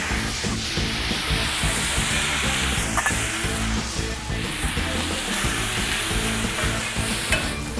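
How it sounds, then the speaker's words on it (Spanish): Onion, garlic and meat juices with fat sizzle loudly in a very hot pan, a dense, continuous hiss and crackle with stirring throughout, close and unbroken by speech. "Voy a terminar la salsa en el sartén."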